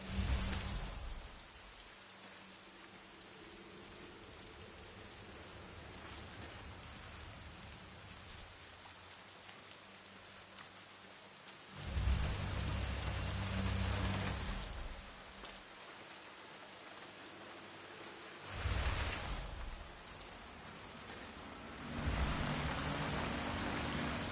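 Rain falls in the video game Hitman 3 as a continuous hiss of drops on surfaces, swelling into a few heavier, louder bursts before easing back to a steady downpour.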